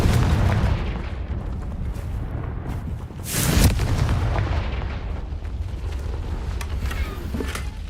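A Confringo explosion spell cast in Hogwarts Legacy, a dense booming blast with a sharp burst about three seconds in, ringing over a constant loud rumbling game soundscape.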